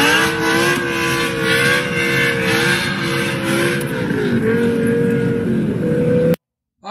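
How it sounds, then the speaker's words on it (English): A BMW drifts on a winter day, its engine holding a steady, loud high-revving drone that dips and shifts pitch partway through before cutting off abruptly near the end. "Now please look at another drift in winter day."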